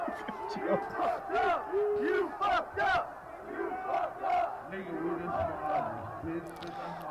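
A crowd at a Juggalo gathering roars and yells in rising and falling bursts, with rowdy voices overlapping throughout at close range.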